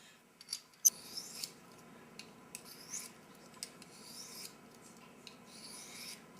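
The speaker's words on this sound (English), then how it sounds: "Here we have a diamond steel for sharpening knives." A knife is drawn across a diamond sharpening steel in four or five quiet, evenly spaced rasping strokes, close and faint against a soft background hiss.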